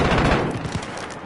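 Rapid automatic gunfire from a console first-person shooter fills the short burst, dense and continuous with sharp overlapping reports.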